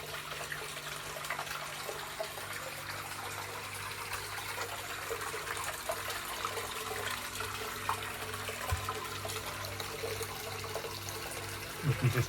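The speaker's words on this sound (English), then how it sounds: "So here we have the natural onsen hot springs bath" Water pours steadily into a natural onsen hot spring bath in a room at a ryokan in Niigata, Japan, a soft continuous gushing flow with a faint hum underneath.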